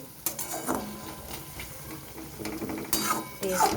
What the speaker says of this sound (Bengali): এইভাবে আমি আরও কিছুক্ষণ ভেজে নেব।